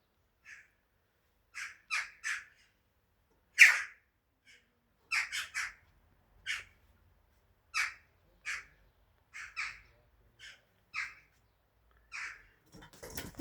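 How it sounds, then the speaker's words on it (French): Agitated crows or ravens caw outdoors in a series of loud, harsh calls, mostly single or paired, spaced through the stretch with quiet gaps between them and no talking. "Il y a les corneilles là ou les corbeaux qui, je sais pas, je les trouve agités."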